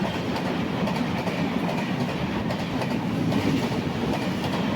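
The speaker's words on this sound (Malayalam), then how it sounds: "126-24 MGR ചെന്നൈ സെൻട്രൽ മെയിൽ അടിച്ച് കീറിപ്പോകുന്നു." The MGR Chennai Central Mail thunders through platform 1 at Mayyanad railway station without stopping, a loud, continuous roar of rolling wagons with a steady clickety-clack running the whole time, close by.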